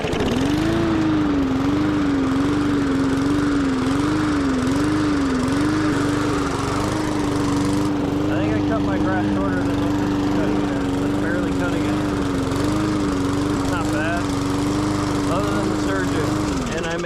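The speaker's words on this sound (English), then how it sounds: "Thinking about it, this is a push mower." An old, trash-salvaged push lawn mower engine runs continuously, loud and close, with a steady droning hum that wavers slightly at first, while a person talks over it.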